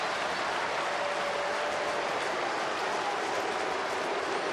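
A big crowd at a Philadelphia baseball stadium applauds and roars after an outfielder's catch at the wall, a loud, steady wash of cheering that fills the whole stretch.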